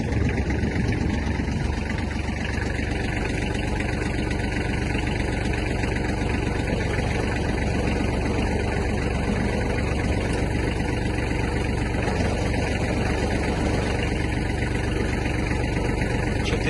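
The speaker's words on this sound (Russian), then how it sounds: "Включим, покрутим фрезу." A Kubota GL-27 mini tractor engine runs steadily with its rotary tiller spinning, a loud, constant mechanical drone that holds without a break from start to finish.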